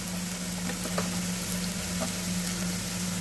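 Ginger garlic paste frying with sliced onions in a pan for a Telugu prawn curry, giving a steady, close, even sizzle with no talk over it.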